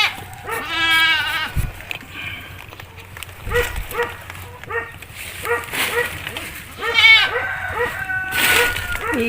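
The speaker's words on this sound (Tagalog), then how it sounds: "Iingay mga kambing" Goats bleat repeatedly on a farm, several loud, wavering cries near and overlapping with a dog's barks and other livestock noise, while people talk nearby.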